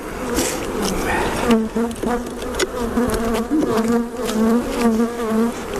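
Honey bees buzz steadily from an opened hive while a colony is being split, a dense droning hum with shifting tones that runs throughout, close and fairly loud.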